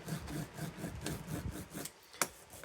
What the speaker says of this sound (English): I will get my little roller here and then just give it a bit of a flatten down.